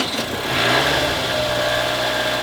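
A car engine idles steadily after a jump-starter start with no battery, a loud close hum with a slight swell at the start, alone without talk.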